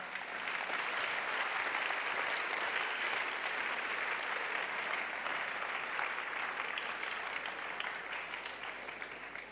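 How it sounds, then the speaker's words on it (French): Sustained applause from a large crowd at a French evangelisation crusade, loud and steady for about ten seconds and fading slightly at the end, with no voices standing out. "Acclamez. Acclame."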